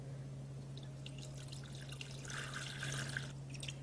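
Water pours into a rice cooker pot holding chicken and rice for samgyetang, a steady splashing trickle that swells near the end over a constant low electrical hum.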